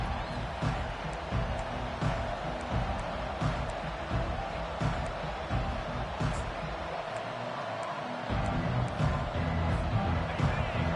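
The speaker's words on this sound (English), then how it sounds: "This crowd, full throat, splitting the eardrums" A football stadium crowd roars continuously around a kickoff and touchback, a dense, loud wall of cheering and noise lasting throughout, with a commentator's voice woven over it.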